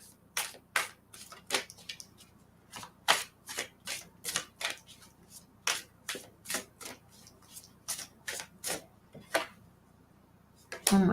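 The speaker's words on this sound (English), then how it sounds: "I've been sitting here shuffling this." Tarot cards being shuffled by hand, a fast run of crisp riffling bursts in an uneven rhythm, close and fairly loud, with faint talk in the background.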